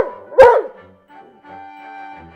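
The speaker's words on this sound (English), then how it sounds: "Timmy barked in delight" Timmy, a dog, gives one sharp, close bark that is followed by quieter, faint tonal sounds and near silence.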